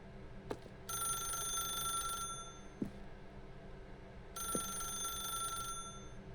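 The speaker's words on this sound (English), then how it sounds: "then pick up the phone." A telephone rings in The Stanley Parable video game, two long electronic bell bursts separated by a pause, with a few sharp clicks and a steady low hum underneath.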